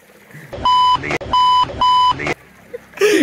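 Three loud, steady censor beeps of roughly equal length cut in one after another, each about a third of a second long, with brief gaps of muffled voice between them and more talk at the end.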